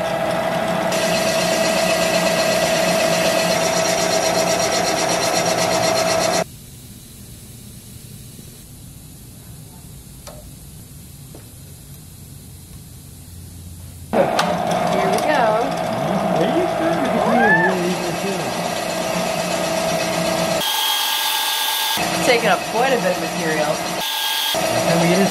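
A boring machine cutting material with its clutch engaged: a steady mechanical drone that drops to a low hum midway, then returns louder and rougher, with people talking over it.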